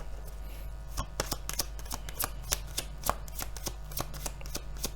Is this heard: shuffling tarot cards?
yes